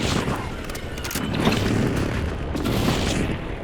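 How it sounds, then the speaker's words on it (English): Airstrike explosions in Call of Duty Warzone, a rolling series of deep booms and rumbling blasts that swell and fade continuously over several seconds, loud and close with scattered crackling gunfire in the mix. "Enemy airstrike in the area."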